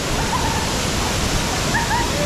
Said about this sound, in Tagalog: Maranong Falls.